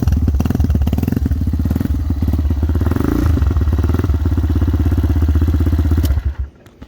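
A 2020 Hawk DLX 250 motorcycle idles loudly and close after a push start, with a steady, rapid single-cylinder thump and slight clatter, then cuts off abruptly near the end.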